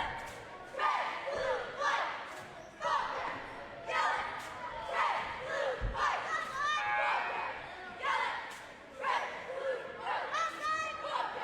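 Crowd at a girls' championship basketball game in a gym during a cheerleader timeout, rhythmic bursts of chanting and cheering that rise and fall repeatedly, with thuds and young voices mixed in.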